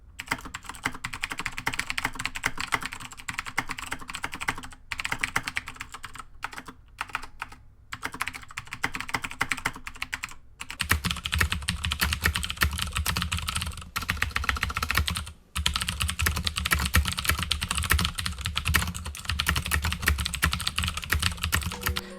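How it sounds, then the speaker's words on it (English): Rapid, clicky typing on a mechanical keyboard, comparing Cherry MX Blue and Razer Green switches, continuous and close, with the clatter turning deeper and heavier partway through. "a little typing comparison for you guys right now between the Cherry MX Blue and these Razer green switches"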